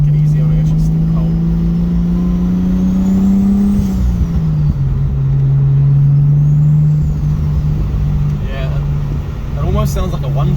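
Loud, steady drone of a Mazda FC RX-7 rotary engine, still cold after sitting for 12 years, heard from inside while driving; the pitch climbs, dips as it shifts, then holds a strong hum, with faint voices underneath.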